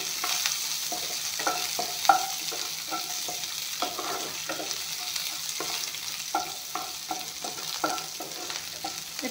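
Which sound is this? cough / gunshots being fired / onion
onion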